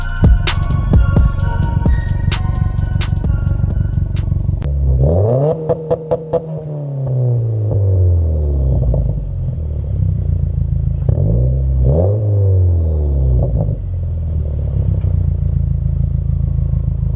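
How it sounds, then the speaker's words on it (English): Cars pass along a roadside one after another, engines swelling and fading as each goes by, with a steady rumble of traffic underneath and no talking. "if you hear any traffic like that right there, there's cars and stuff driving by me"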